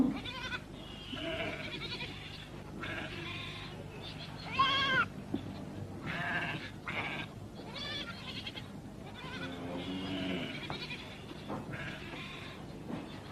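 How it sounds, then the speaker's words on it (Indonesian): Several goats bleat in a cluster of repeated, wavering calls, fairly close, with farm background noise and no talk. "Kambingnya banyak bener."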